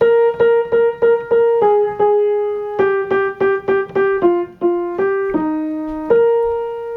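A simple single-note piano melody, the opening of the verse of a song, played clearly and alone at a steady, moderate pace, each note struck and left to ring briefly.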